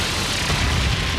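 A loud, dense blast from the Brionac weapon firing in the video game Trails of Cold Steel III, a continuous roaring explosion filling the whole moment with no voices.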